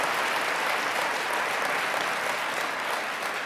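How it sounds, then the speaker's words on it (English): A network marketing speakers academy audience claps steadily and densely for several seconds, a full even wash of applause with no voices over it. "Give yourselves a round of applause."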